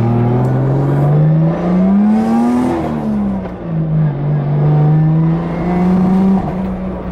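A 2JZ-swapped Nissan S14 street car engine revs up and down continuously and close, its note wavering and breaking up, with faint voices in the background.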